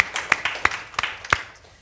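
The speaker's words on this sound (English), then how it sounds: "yes, you can applaud for that." A few people clap in scattered applause, sharp separate claps at an uneven pace, close by and brief, fading out after under two seconds.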